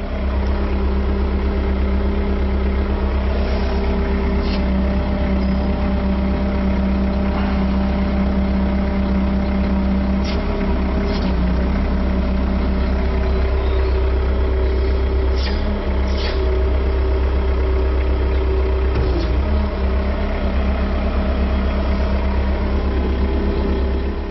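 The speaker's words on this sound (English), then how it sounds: "Our second shifter allows us to extend the boom" A JCB 515-40 telehandler's diesel engine runs steadily at a low, even idle throughout while the boom extends or retracts, a constant close rumble with faint intermittent higher clicks and no talking.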